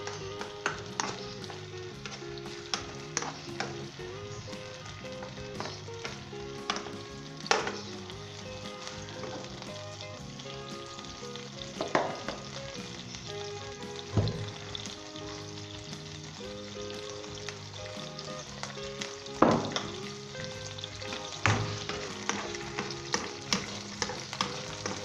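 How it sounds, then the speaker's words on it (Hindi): Jaggery melting with water in a pan over medium heat for peanut and roasted chickpea chikki, a constant bubbling sizzle broken by repeated sharp scrapes and clinks of a spoon against the pan, close, no talking. "मिक्स कर लें, मेल्ट होने दें इसे मीडियम हीट पे"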